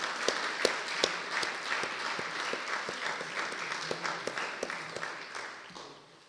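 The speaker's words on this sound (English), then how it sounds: "Let's give all of the faculty a big round of applause for what they have done." Applause from the audience for faculty at a school graduation ceremony: a steady bed of many hands clapping with distinct individual claps popping out, tapering off at the end.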